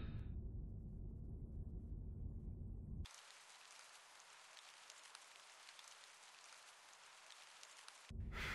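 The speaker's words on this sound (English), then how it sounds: "Why does it always rain in England?" Low deep rumble gives way to a steady hiss of rain falling on surfaces for several seconds before the rumble returns, in the video game Her Majesty's Spiffing.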